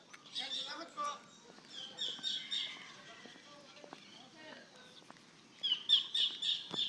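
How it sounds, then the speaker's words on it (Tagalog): Bird chirps and calls from a large bird come in bursts, sharper near the end, while a voice speaks softly in between, by the seaside in the Philippines. "Yan, laki ng ibon, oh."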